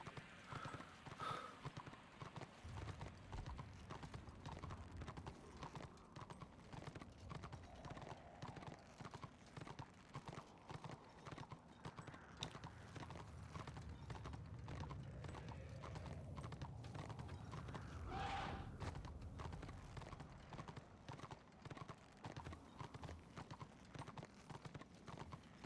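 In the online video game Warhammer Online, a horse's hooves clip-clop in a rapid, steady galloping rhythm, joined by occasional whinnies, all fairly faint.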